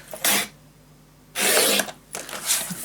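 Paper being cut for a scrapbook mini album, two loud rasping cutting strokes separated by a quiet pause, close and alone with no voices.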